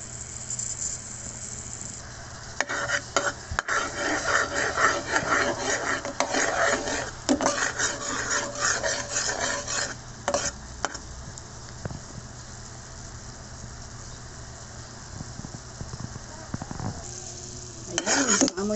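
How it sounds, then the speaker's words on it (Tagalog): Garlic sizzles in a pan while a utensil scrapes and stirs it, rough rasping bursts close up over a soft steady sizzle, easing off midway then briefly returning, with a voice speaking now and then. "Lagay na po natin yung bawang."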